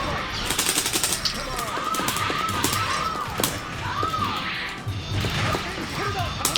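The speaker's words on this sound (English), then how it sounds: "No way, he bringing out them cannons." Bazooka cannons firing in the Hearthstone video game, a dense burst of rapid booming blasts and crashes layered with swooping whistles, loud and continuous over several seconds with voices underneath.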